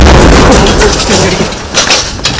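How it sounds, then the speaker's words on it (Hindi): A loud, booming shell explosion in Lebanon with broad rumbling noise and scattered cracks, followed by lingering low rumble and a few sharper bursts near the end. "ये कोई शेल अंदर था जो अभी भी फटा है।"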